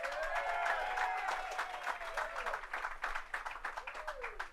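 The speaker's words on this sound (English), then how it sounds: "How about a big round of applause for the Hollywood Chamber of Commerce?" Audience applause at a Hollywood Walk of Fame ceremony for Teddy Riley, an outdoor crowd clapping steadily and fairly distantly, with cheers and whoops rising over the clapping.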